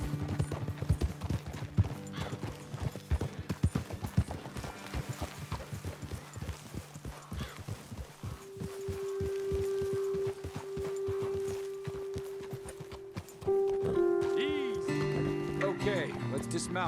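Horse hooves clip-clop in a steady walking rhythm in the video game Red Dead Redemption II, with an occasional faint whinny, as someone talks over the hoofbeats and a music cue rises toward the end.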